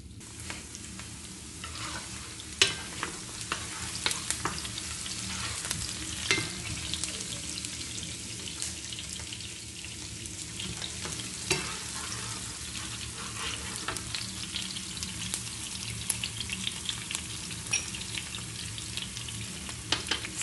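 Onions fry in a pan for a tilapia stew, giving a steady close sizzle throughout with occasional sharper crackles and light stirring, no voices.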